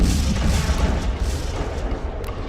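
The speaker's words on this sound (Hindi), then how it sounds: "खार्किव के इक्वेटर मॉल पर रूस ने भारी बॉम्ब शेलिंग की है।" Heavy bomb shelling on a shopping mall in Kharkiv, Ukraine: deep, rolling booms and rumbling blasts that run continuously and loudly, with no voices.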